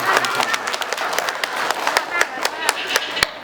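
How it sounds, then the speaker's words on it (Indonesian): Children and staff in the audience at an Isra' Mi'raj school event clap their hands in a steady, fairly loud run of sharp claps over a background of voices. "Tepuk tangan lah."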